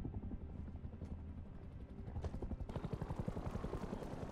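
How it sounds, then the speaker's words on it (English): In a modded video game set on a Martian oil rig, an attack helicopter thrums with steady rotor chopping that grows more pronounced and rhythmic toward the end, heard at moderate distance with no talking. "there is still an attack helicopter knocking around though."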